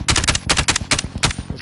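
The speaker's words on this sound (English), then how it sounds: "Shots." Rapid automatic gunfire crackles from a video game in four tight bursts of several shots each, loud and close with sharp repeated cracks and no talking.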